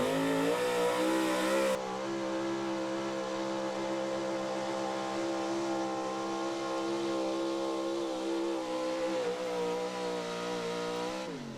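A big-block high-output 4x4 pulling truck engine revs hard and steady at a truck pull, a loud sustained roar with tires spinning beneath it, running continuously without a break.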